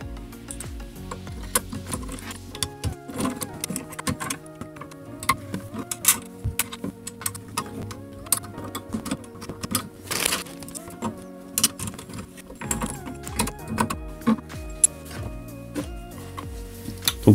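Small M3x8 screws are driven into plastic covers on a Voron 2.4 3D printer, giving a run of close ratcheting, clicking mechanical turns with short pauses between bursts.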